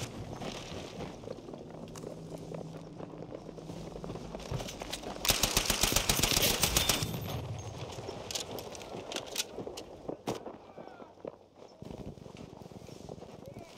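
A suppressed M3 Grease Gun fires in Battlefield 5, a burst of rapid muffled shots around the middle, followed by scattered single reports amid game footsteps and ambience, with a player talking over it.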